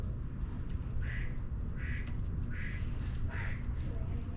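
Duck quack sound effect, four evenly spaced nasal quacks heard faintly over a steady low background rumble.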